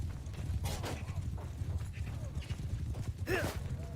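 Horse hooves clip-clop in a Calradic Campaign battle game, a steady galloping patter close by with battle noise and faint voices around it.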